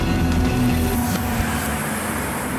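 A train at Rouen railway station gives a steady, loud rumble with a low hum and faint squeal throughout, no voices over it.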